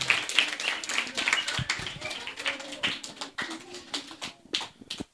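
A school crowd at a Women's Day event claps in loose, uneven bursts, sharp close hand claps scattered across the stretch with voices and cheering mixed in.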